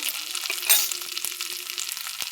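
Ginger frying in a pan, a steady close sizzle with soft crackles and a few light clicks of stirring, one brief louder burst near the start, no voices.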